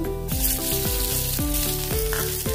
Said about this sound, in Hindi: अभी इसमें लहसुन की कलियां अच्छे से फ्राई हो गई है। अभी इसमें हम प्याज डालेंगे।